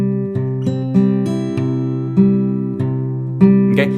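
Fingerstyle acoustic guitar plays the final measure of a song, with steady plucked notes ringing over sustained bass tones, close and clear, with no talking.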